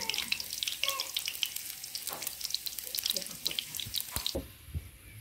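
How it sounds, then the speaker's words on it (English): Chopped garlic dropped into hot oil for a dhal and rice cook-up, giving a steady close crackling sizzle with scattered pops and clinks, fading quieter near the end. "And here I have some oil going. So I'm gonna put some chipped garlic inside."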